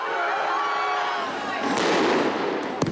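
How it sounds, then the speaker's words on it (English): Explosions going off overhead at a university protest encampment during a police clearance, bursts and crackling pops amid crowd noise and a narrating voice, with sharp bangs near the end. "More explosions overhead."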